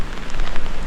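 Rain pours steadily at Mandaram Nuwara in cold weather, a dense, close patter of drops hitting surfaces without pause.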